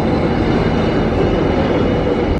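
Steady rumble of a passenger train rolling through the Dutch countryside toward Leeuwarden, heard from inside the carriage as an even, loud roar with faint rail noise.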